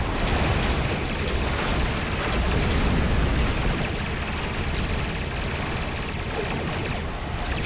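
Starships in Star Trek Online blast at a rift during a fleet PvE event against the Undine. The weapons fire is a loud, continuous barrage of overlapping shots and booms, rumbling throughout.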